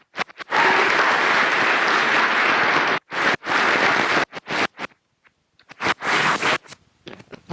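Loud, dense applause from a conference audience at a peace event in Romania, breaking into several bursts with short gaps, steady clapping filling each stretch.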